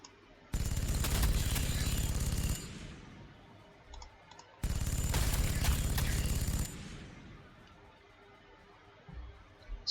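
Two long bursts of rapid automatic fire in the video game Warhammer 40,000: Sanctus Reach, each a steady mechanical rattle lasting about two seconds, separated by a quiet gap.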